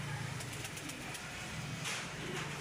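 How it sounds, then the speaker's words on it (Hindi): Salara pigeons at a home loft coo softly, with low, repeated throaty notes under a faint rush of background noise and an occasional flutter. "ये मेरे घर के सलारे कबूतर हैं मोस्ट फेवरेट"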